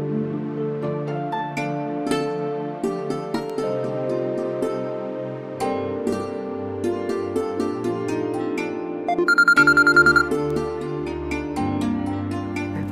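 A mobile phone ringtone in a Bangladeshi Eid comedy drama gives a brief, bright electronic ringing burst late on, laid over continuous background music.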